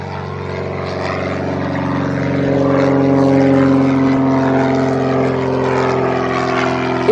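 A propeller aircraft at East Midlands Airport, its engines droning loud and close with steady tonal propeller hum that rises slightly in the middle, alone without talk.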